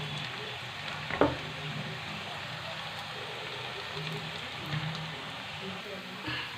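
Onion and cumin fry in a pan with a steady, moderate sizzle and a brief clatter near the start, continuing evenly without voices.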